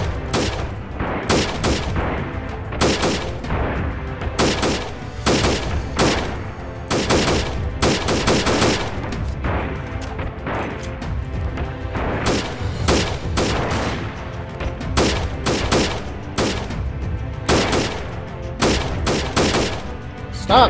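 Loud, close gunfire from the Freeman: Guerrilla Warfare video game rings out in repeated sharp bursts and single shots, one after another, with no talking.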